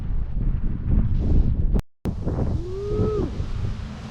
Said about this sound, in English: kind of a windy day